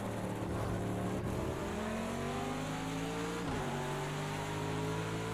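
Chevrolet IMSA GTD Pro race car in Project Cars at Circuit of the Americas, its engine droning steadily with rising harmonic tones through the gears and a sharp downshift dip midway, loud and continuous with no talking.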